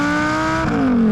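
A Lamborghini 5-litre V10 engine revs loudly and close up, a smooth high-pitched howl whose tone drops slightly as the revs fall.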